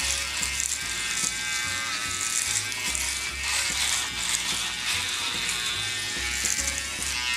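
An electric shaver buzzes continuously at close range, its rattling drone steady throughout with slight rhythmic shifts as it moves over stubble.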